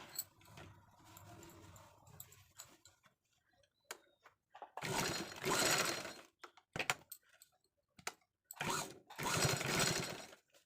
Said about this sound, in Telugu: ఇక్కడ ఒక స్టిచ్ వేసుకోవాలి